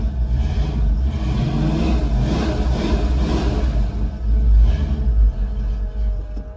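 A truck engine with an electric choke runs while warming up, giving a steady close low rumble that swells briefly and then settles toward idle.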